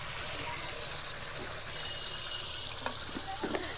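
Cashew and poppy seed paste frying and being stirred with spices in a pan for a Bengali rohu fish mustard-poppy curry, giving a steady close sizzle with a few light scraping clinks near the end.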